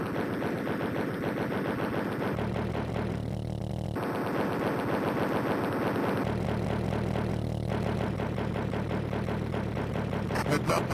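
Steady machine-gun fire from a Lancaster bomber's guns in the Amiga game, a continuous rattling burst over a droning engine hum, with a brief break midway before the firing resumes.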